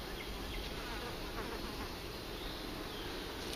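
Honey bees buzzing around hive frames form a dense, steady hum at close range that runs unbroken for a few seconds, with no voices over it.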